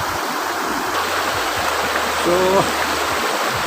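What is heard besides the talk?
fast-flowing stream water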